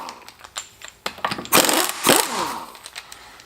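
Lug bolts, 17mm, being loosened and removed from the rear wheel of a 2009 Mini Cooper Clubman: scattered metallic clicks and knocks lead into two louder bursts of wrench or tool noise midway, with no talking.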